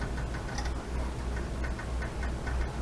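A kitchen timer ticks steadily and close by over a constant low background hum. A pot of food is boiling on the stove nearby.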